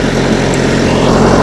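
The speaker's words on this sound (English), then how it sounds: "I'm sorry about the noise from the refrigerator unit" A refrigeration unit on a truck trailer loaded with mushrooms runs continuously, giving a loud, steady mechanical drone with no break and no voices.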